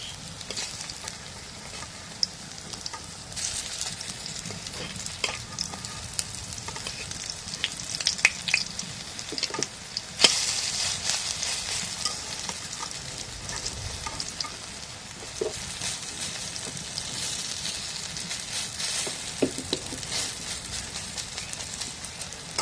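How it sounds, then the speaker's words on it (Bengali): Onions sizzle and fry in a pan at home as they are turned over, a steady crackling hiss with occasional scraping and stirring clatters, fairly close and quiet, no one talking. "এখন পেঁয়াজগুলো উল্টাই দিই"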